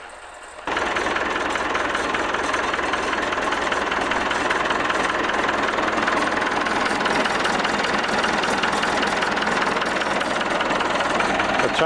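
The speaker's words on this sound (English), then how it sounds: "The tractor is warm and ready to go" A warmed-up tractor idles nearby in snowy northern Sweden, a steady loud engine rumble that starts abruptly and runs unbroken to the end.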